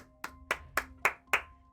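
Five sharp hand claps come at an even, unhurried rhythm, fairly quiet against a faint steady hum.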